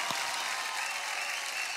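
A studio audience at a televised children's singing competition breaks into loud, dense, continuous applause throughout.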